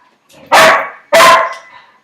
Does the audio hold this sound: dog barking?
yes